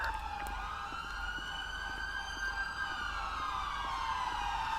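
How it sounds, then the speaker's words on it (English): A GTA5 ambulance siren wails steadily while the vehicle responds code 3, its rising and falling tones sounding fairly distant and moderately quiet over faint low background rumble. "An ambulance is responding code 3."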